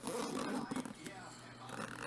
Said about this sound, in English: Lots of zippers on this bag.